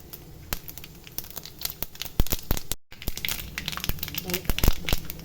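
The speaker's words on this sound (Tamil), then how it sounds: "ஒரு ஸ்பூன் கடுகு போட்டுக்கலாம்." Mustard seeds spluttering in hot sesame oil for a Tamil mutton chukka, a dense run of sharp pops and crackles growing busier and louder, with a voice speaking over the frying.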